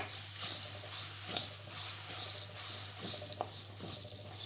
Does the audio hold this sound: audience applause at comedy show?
no